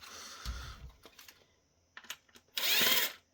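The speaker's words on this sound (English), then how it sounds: "Unscrew the chip reader here, or at least the housing for the guide for the chip reader." Small screws being backed out of the plastic housing around the chip reader guide on an Ingenico Elite 712 countertop payment terminal, heard as close, brief clicks and scraping bursts, ending in a louder whirring stretch like a powered driver.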